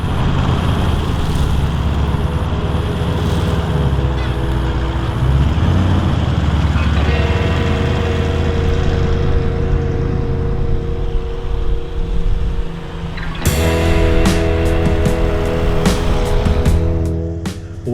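A 4WD with lowered tyre pressures drives steadily along beach sand tracks, its engine droning close and continuous, the pitch climbing as it accelerates and a louder surge near the end.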